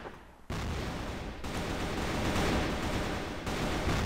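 AK-47 Super Dragon rifle fire on the Rocha map of a shooting video game: a dense, sustained burst of gunfire starts abruptly and continues loud and close, with no voices.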